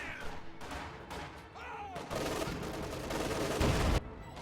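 Video game gunfire as Volksgrenadiers with Jaeger light infantry support shoot down conscripts from range in a strategy match, with scattered shots and bursts building into a denser, louder exchange near the end.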